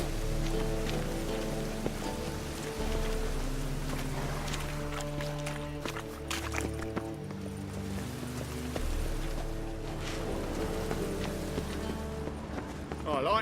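Rain falls steadily in The Witcher 3, a soft continuous patter heard under game music and character voices, with hoof-like clopping mixed in.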